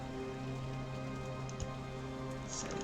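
Rain falls in RollerCoaster Tycoon, a soft, even patter with a steady background hum and a few faint clicks, no voice over it.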